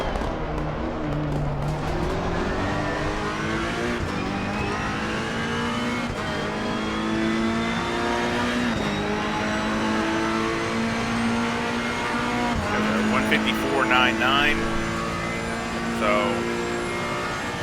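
Ferrari EVO GT3 race car in Assetto Corsa Competizione at Paul Ricard, engine droning steadily at high revs with rising pitch sweeps through gear changes, loud and continuous, with a voice talking over it.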